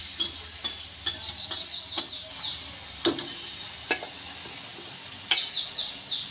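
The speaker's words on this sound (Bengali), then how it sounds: "রসুনটাও একটু ভেজে নেব।" Four or five garlic cloves fry in oil with cumin and dried chili, making a light crackling sizzle punctuated by sharp ticks and scrapes from stirring.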